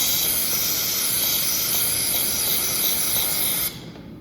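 Coating sprayed inside the frame of a 1948 Chevy Cabriolet, a loud, steady, close hiss that holds for several seconds, then drops away abruptly near the end.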